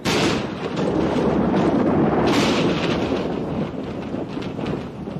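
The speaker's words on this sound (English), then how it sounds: "Thunderstorms." A summer thunderstorm over the Drakensberg Mountains rolls in as a loud, sustained roar of thunder. The broad rumble fills the whole stretch without a break, with no voices.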